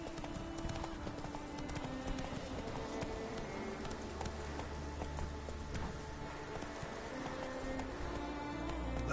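Hooves of Roach, the horse in The Witcher 3 game, clip-clop in a steady galloping rhythm throughout, moderately loud over a dense game soundscape with a low rumble building near the end.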